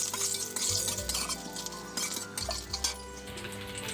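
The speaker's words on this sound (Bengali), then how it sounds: "একটু নাড়াচাড়া করে দিচ্ছি।" Bay leaf and five-spice tempering are stirred in hot oil, with a soft sizzle under repeated scraping and metallic clinks of the utensil against the pan.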